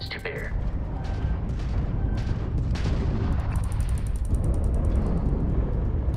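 Enemy spaceship weapons fire in Starfield during a space battle, a dense, loud barrage of booms and mechanical clatter over a constant low rumble, with bright repeated bursts near the end.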